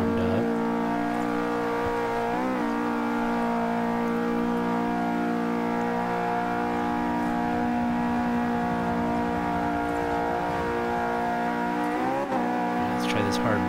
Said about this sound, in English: Let's try this hard brake right here and see what happens. Give it a downshift.